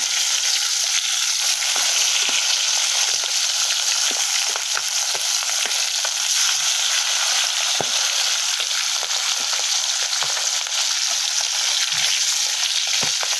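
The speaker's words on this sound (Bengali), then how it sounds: "পাঙ্গাস মাছগুলো এখন বাজি করে দিচ্ছি" Pangas fish coated in turmeric and chili sizzles steadily in hot oil, a loud continuous frying hiss with scattered sharp pops and crackles and no talking.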